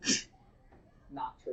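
A single short, sharp sneeze right at the start in a classroom, followed by brief speech from nearby voices.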